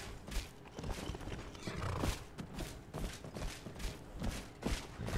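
Horses in the Chestnut Handy Stables in the video game Skyrim neigh and whinny while hooves clop and thud in an uneven rhythm, fairly faint and with no talk.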